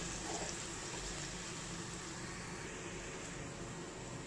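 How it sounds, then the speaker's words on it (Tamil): Strained tamarind water pours into a pan of sautéed onions and asafoetida while oil-fried brinjal curry is cooked, giving a steady, soft liquid rush at close range with no talk. "இப்போ இந்த ஸ்டேஜில் புளித்தண்ணியை இதில் ஆட் பண்ணிக்கலாம்"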